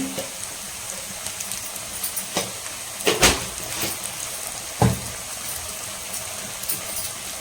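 Ginger garlic paste sautés in a pan for egg masala, giving a steady, close hiss of sizzling with a few sharp spatula scrapes and knocks against the pan, and no talking.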